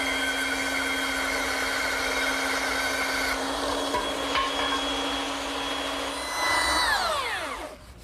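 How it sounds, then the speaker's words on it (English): A small belt sander smooths bandsaw cuts on a wooden furniture leg, giving a steady, close whine that holds for about seven seconds before winding down at the end. "Now I'm just using my small belt sander to smooth out the saw cuts on the leg wherever I can."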